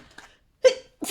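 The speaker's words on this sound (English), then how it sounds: "Oh, a sneeze." A single sharp sneeze bursts out midway, close and fairly loud, preceded by faint breathy sounds and followed by another short burst.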